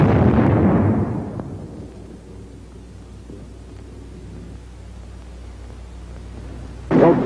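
A bazooka round bursts against a sandbag emplacement in WWII infantry combat, a loud booming blast that rolls off over about a second and dies into a low rumble, with another jolt starting at the very end.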